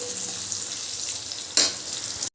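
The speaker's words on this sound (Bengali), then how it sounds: "এভাবে আরেকটু ভেজে নেব আমি। ডাঁটাটা আমি একটু ভেজে নিয়েছি।" Malabar spinach stalks frying in a pan give a loud, continuous hiss of hot oil, with one sharp burst of spattering partway through before the sound cuts off.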